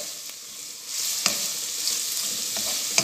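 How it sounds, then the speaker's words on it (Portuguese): Linguiça sausage sautéing in a pan, a steady bright sizzle with occasional scraping clicks from stirring, close and continuous with no talking. "refogando a nossa linguiça para colocar no meio do nosso purê de abóbora"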